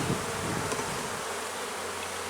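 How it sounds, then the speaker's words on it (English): A crowded hive of honey bees hums during an inspection, an even, continuous buzz of many bees close by with a couple of brief louder passes. "get out the way, bees"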